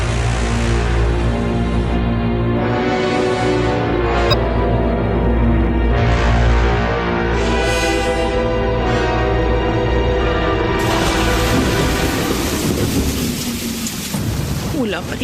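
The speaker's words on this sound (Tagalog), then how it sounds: "Wala pa ring tigil ang ulan." Heavy rain pours in a dense, constant hiss while rolling thunder rumbles low and loud through most of it, with no voices.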